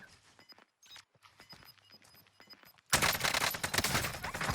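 Sustained rapid gunfire from the game Warzone bursts in loudly after a stretch of quieter scattered shots and movement, continuing densely to the end.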